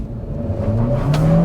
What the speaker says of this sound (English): If you guys can kind of hear that sport tune exhaust